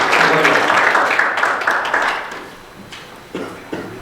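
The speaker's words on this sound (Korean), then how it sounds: "한번 큰 박수 부탁드립니다." An audience at a reserve officers' forum general meeting and inauguration ceremony applauds the new chairperson with loud sustained clapping that fades away, followed by a few scattered claps and faint murmuring.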